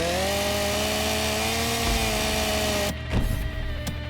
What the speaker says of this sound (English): As long as we have a trusty chainsaw,